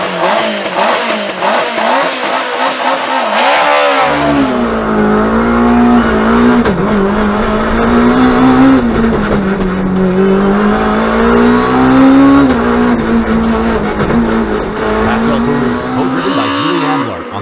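Historic rally cars race on a Swiss Alpine special stage at the 2022 Rallye du Chablais. Engines roar loud and steady through revs and gear changes, with a voice talking over the noise.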